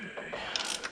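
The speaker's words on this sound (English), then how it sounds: "this thing has been the most durable ratchet I've ever had, and it's so nice to have that swivel" Swivel ratchet being worked, a brief run of quiet close mechanical clicks and light metallic ticking over about a second.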